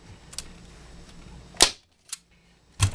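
A heavy-duty upholstery staple gun fires staples into a seat, three or four sharp, close snaps spaced irregularly across a quiet background.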